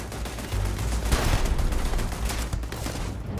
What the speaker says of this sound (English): Nade landed right in my face.